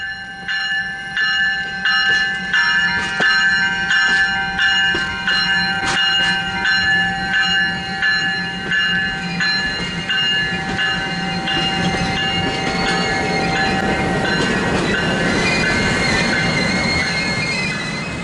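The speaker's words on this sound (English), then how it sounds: "Here the train passed through many of the crossings" The Royal Canadian Pacific passenger train rumbles past with wheels squealing and a crossing bell clanging steadily, loud and close, the metallic screech building toward the end.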